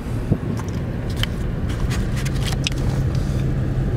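A car drives slowly through a campground at Red Rock Canyon State Park in California, giving a steady low rumble with tires crunching and scraping over gravel close up, with no talk.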